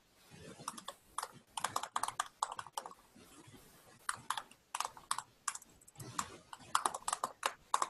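Typing on a computer keyboard during an online meeting, bursts of quick clicky keystrokes with short pauses between them, close and fairly quiet, with no talking.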